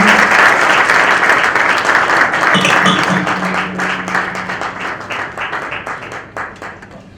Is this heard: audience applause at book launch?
yes